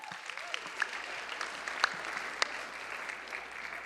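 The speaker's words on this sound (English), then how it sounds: "Alex, give Alex a hand too as well." Applause from an audience at the White House Correspondents' Dinner, a steady patter of many hands clapping at moderate loudness with a few sharper claps standing out.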